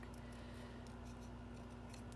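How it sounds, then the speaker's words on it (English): Scissors snip through cardstock as a paper crafter fussy cuts around a printed image, giving a close, quiet run of soft cutting crunches with no talking. "it's easier if you keep your scissors in the same place and move your cardstock"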